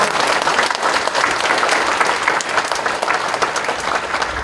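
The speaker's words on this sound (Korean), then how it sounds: "다 같이 감사와 영광의 박수 한번 올려드릴까요?" A church congregation applauds loudly and continuously at an ordination thanksgiving service, a dense, sustained wash of clapping from many hands with a faint murmur of the crowd.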